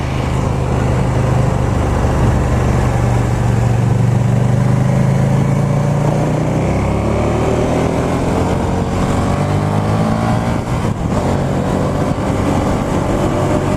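A KTM Superduke 1290 R motorcycle cruises on a highway, its engine droning loudly and steadily under heavy wind roar, with the pitch dropping and then climbing as it shifts and accelerates.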